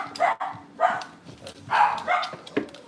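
Cavalier puppy barking in short, sharp bursts, about five yaps in three seconds, close and fairly loud indoors in a kitchen with other dogs nearby.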